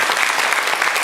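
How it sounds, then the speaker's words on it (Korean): A church congregation at a Sunday morning service applauds to welcome newcomers, brief, dense and even clapping from many hands throughout. "오신 분들 우리 한번 박수로 우리 한번 환영하도록 하겠습니다"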